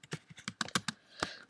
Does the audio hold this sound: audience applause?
no